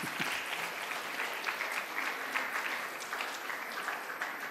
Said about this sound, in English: So why don't you clap for this?